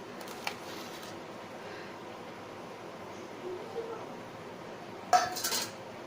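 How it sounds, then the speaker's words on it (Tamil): Rice being transferred from a bowl onto a plate while making Indian-style omurice, heard as soft scraping with a faint early clink and a sharper clatter of utensil on dish near the end, while someone talks quietly. "இப்போ நான் இதை பவுலில் இருக்கிற ரைஸை வந்து இதில் பிளேட்டில் அப்படி ட்ரான்ஸ்ஃபர் பண்ணுறேன்"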